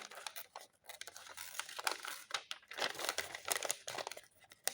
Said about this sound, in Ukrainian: розриваємо аркуш коричневого паперу